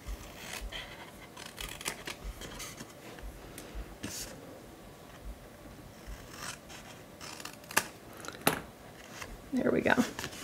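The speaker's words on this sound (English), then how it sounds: "So I'm gonna come in and miter cut those." Scissors make miter cuts on paper tabs of a full-sheet gift bag, producing scattered crisp snips and paper rustles close by, with speech heard during the clip.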